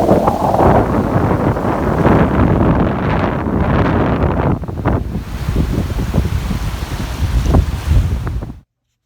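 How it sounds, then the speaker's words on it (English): Strong wind roars across a microphone on a beach, with heavy gusty buffeting and the wash of surf underneath, easing somewhat midway before cutting off abruptly near the end. "it was super windy, like super windy"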